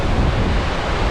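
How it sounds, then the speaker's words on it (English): A mountain waterfall in the Mournes, swollen with a night of rain, roars as a loud, dense, broadband rush of falling water, steady and unbroken with no voices. "So that's all the rain that fell last night coming down off the mountain."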